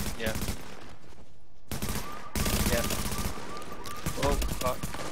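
Gunfire in the shooter game The Division, including sniper shots, with sharp shots and bursts in chaotic combat broken by a brief lull, with a voice speaking over it.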